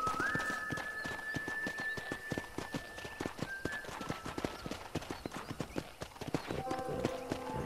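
Horse hooves clip-clop steadily at a trot in Red Dead Redemption, close and rhythmic, with a brief whinny and game music tones over the top.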